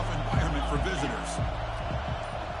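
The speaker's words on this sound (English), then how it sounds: "Listen to the crowd energy here in the early going." A football stadium crowd roars in a steady, dense wash early in the game, with a commentator talking over it.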